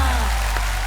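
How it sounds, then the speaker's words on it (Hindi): A television comedy show's studio audience applauds in a brief wash of diffuse clapping over a steady low hum, with no clear individual claps standing out. "तालियां।"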